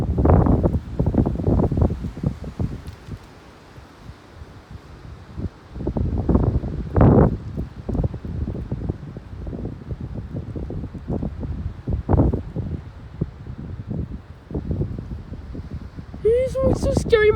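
Strong wind storm roars and buffets the microphone in heavy gusts that rise and fall, with rustling leaves underneath. A voice cuts in briefly near the end.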